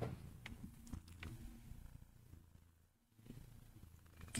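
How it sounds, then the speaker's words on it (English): A soft, low purr rumbles in a slow rhythm close by, fading almost to silence midway before resuming. "Now listen to him purr."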